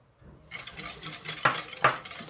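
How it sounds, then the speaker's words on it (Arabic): Eggs and sugar mixed in a bowl, a utensil stirring and scraping in a steady rhythm with two sharper knocks against the bowl, close and moderately loud. "نخلط العناصر،"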